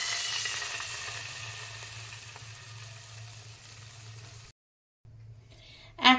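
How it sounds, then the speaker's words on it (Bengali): Sizzling in a hot pan after biscuits were roasted in ghee, with milk then added. A steady hiss fills most of the clip, cuts to a short silence, and returns with a brief louder splash at the end. "এইবার একই প্যানে আমি দিয়ে দেব 1 কাপ দুধ।"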